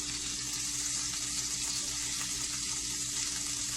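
Food with cheese and onions frying in a pan, a steady, even hiss of sizzling at low volume with no distinct stirring sounds.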